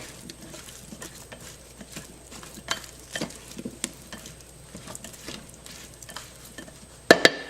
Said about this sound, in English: I'm going to stir that up really well so the sausage can get coated with the olive oil also